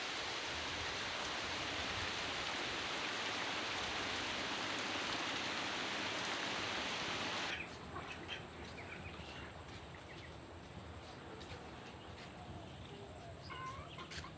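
Steady rain hisses over a village for about half the time, then cuts off abruptly, leaving a quieter outdoor scene where chickens cluck faintly in the distance.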